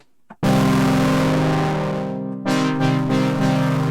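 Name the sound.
MiniFreak synthesizer with heavy distortion effect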